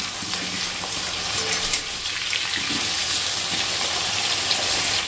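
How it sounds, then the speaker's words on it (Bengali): Potatoes sizzling in hot oil with salt and turmeric, a steady close frying crackle running through the whole stretch with faint stirring and scraping underneath, no talking. "এখন এই আলুগুলোকে একটুখানি ভেজে নিই নুন হলুদ দিয়ে।"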